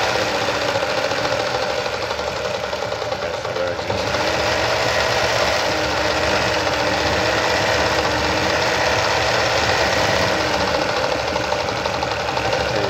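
A Veritas zigzag sewing machine stitching steadily at close range, its rapid mechanical whir and needle clatter running continuously and evenly without pause.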